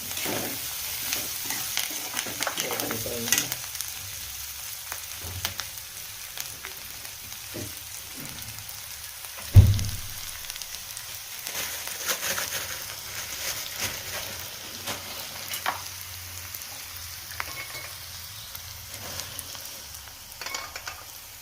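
Curry leaves sizzle in hot oil in a pan while kadhi pohe is being made, a steady close frying crackle with stirring clinks and one louder knock partway through, no talk.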